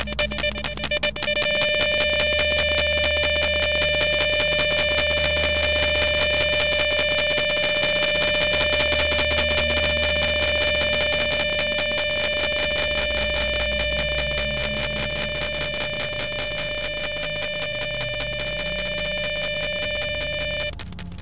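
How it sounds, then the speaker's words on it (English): Early anomaly detector in a S.T.A.L.K.E.R. game build, beeping in a rapid, continuous, loud electronic tone that holds steady for about twenty seconds with no talk. "that's the early detector beeping like shit"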